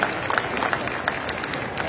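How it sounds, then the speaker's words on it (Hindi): Loud applause from a large crowd at the Dev Deepawali celebrations in Kashi, a dense steady wash of clapping with scattered sharper claps throughout. "आप सभी काशी वासियों से अनुरोध है कि मंच के लिए जोरदार तालियां पहुंचाएं"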